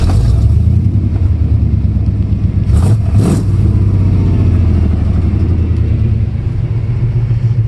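A K5 Blazer squarebody engine rumbles loud and steady through a new exhaust. It gives a couple of quick revs near the middle, then settles back to a deep idle.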